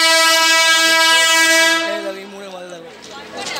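A passenger train stalled at Kalyani station sounds a long, loud horn with steady stacked tones that cut off after about two seconds, leaving a softer rumble of station and crowd noise.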